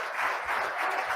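Audience at a legislative hearing on the 2020 election bursts into applause, a dense, steady clapping from many people filling the room, with no talking.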